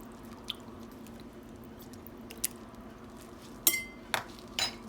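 Chopped turnips are stirred in a cooking pot, with soft scraping under a low background hum, then a few sharp metallic clinks of a utensil against the pot near the end.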